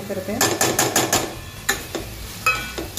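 Utensil stirred through spice paste of green chilli, coriander and masala into broccoli in a pan, giving a string of close scraping and clinking strokes, some quick and clustered, then a few separate knocks.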